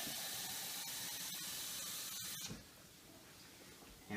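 Water poured into a hot pan of browned onions for butter chicken hisses and sputters loudly, a bright steamy sizzle with a few sharp pops, then drops to a quieter simmering hiss.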